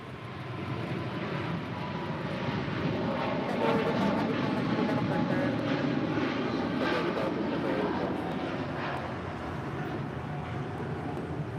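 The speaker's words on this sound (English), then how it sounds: "That is Cathay Pacific Flight 885 departing to Hong Kong on a 777-300 ER in the One World livery" A Cathay Pacific Boeing 777-300ER departs LAX for Hong Kong, producing a loud, steady jet-engine roar that swells slightly midway and holds throughout.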